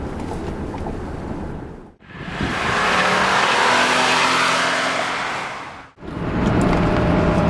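Lexus GS450h hybrid car accelerating strongly, the engine note swelling loud and broad in two surges separated by brief drops, recorded close to the car.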